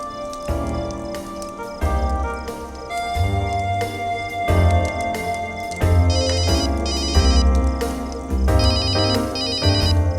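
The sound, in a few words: mobile phone ringtone ringing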